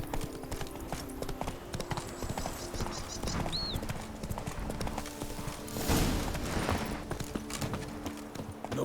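Roach, a horse in The Witcher 3, clip-clops along at a steady pace, hooves drumming close throughout, with a brief whinny and other game sounds underneath.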